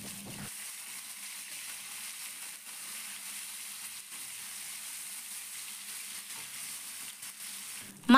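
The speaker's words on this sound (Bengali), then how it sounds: "মাছগুলোকে আমি খুব ভালো করে ভেজে নেব" Tilapia pieces fry in hot oil for a mustard-paste curry, a soft, steady sizzle that stays faint and even throughout, with a sudden bump at the very end and no talking.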